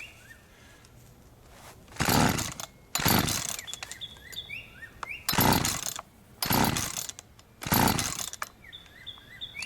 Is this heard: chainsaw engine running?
yes